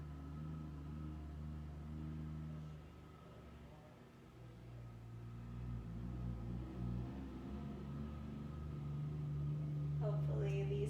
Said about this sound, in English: Hopefully the sound of my refrigerator, the sound of trucks going by outside has lulled you into this relaxing practice.